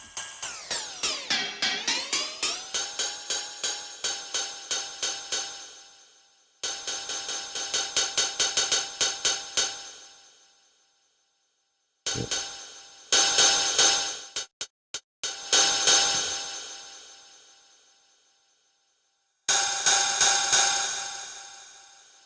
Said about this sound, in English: There actually is a lot of variety in the sound that you can get from the cymbals.